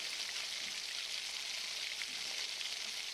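Ingredients sizzling steadily in a pan while being sautéed to golden for a village-style South Indian kadaiyal dish, a continuous, fairly quiet frying hiss with no pauses.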